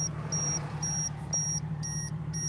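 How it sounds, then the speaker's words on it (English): A Geiger counter or radiation meter beeps in a regular repeating pattern of short high electronic tones, about five evenly spaced beeps, close and clear over a low steady hum near a cell phone tower. "Is that a Geiger counter?"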